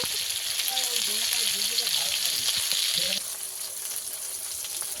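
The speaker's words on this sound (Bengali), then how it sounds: "আদাটাও টমেটোর সঙ্গে ভালো করে ভেজে নেব" Ginger frying with tomato and turmeric in a pan gives a bright, steady sizzle up close, which drops to a softer crackle partway through, while a voice talks over it.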